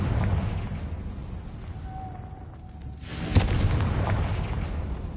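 A Confringo spell explodes in the game Hogwarts Legacy, a sudden booming blast with a bright crackling burst that rises out of steady rumbling background noise.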